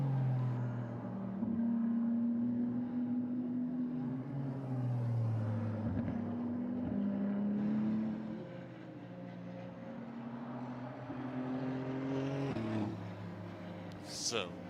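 A Ferrari Challenge race car accelerating at Mugello during qualifying, its engine note rising and shifting through gears at middle distance, with commentators talking over it throughout.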